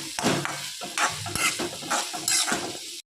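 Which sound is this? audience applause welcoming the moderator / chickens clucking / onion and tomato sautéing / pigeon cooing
onion and tomato sautéing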